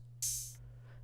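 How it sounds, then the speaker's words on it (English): An open hi-hat drum sample in FL Studio plays once, a bright hissing cymbal burst lasting about a third of a second over a faint low hum. "This open hat is pretty simple."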